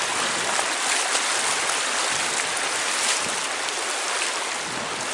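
A clear river flowing over smooth stones, giving a steady, dense, close rushing and splashing hiss that stays even throughout, with no talk.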